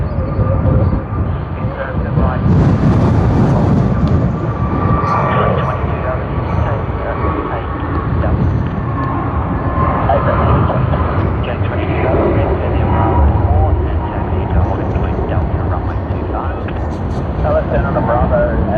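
A Jetstar airliner takes off from runway 25 at Sydney Airport, a loud, steady broadband jet roar sustained throughout with radio chatter running over it.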